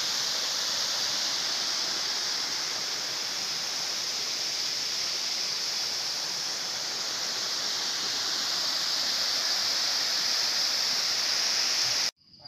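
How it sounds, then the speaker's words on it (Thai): Steady, full roar of rushing water from a waterfall in Doi Inthanon National Park, Chiang Mai, constant and enveloping, cutting off abruptly at the end. "น้ำตกแรกทางขึ้นดอย"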